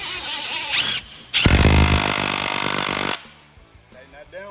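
A bolt being tightened on a 2018 MXZ X snowmobile ski, heard as a loud burst of power-tool whirring and rattling lasting about two seconds, with short squeaks and a voice speaking before and after.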